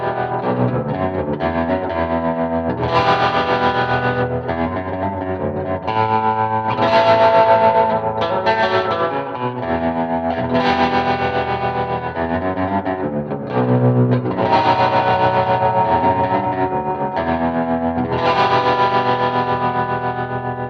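A baritone electric guitar with a steel body, a Mulecaster, plays a riff through heavy distortion with chorus and echo, low and thick, chords and sustained notes continuing steadily without any talking.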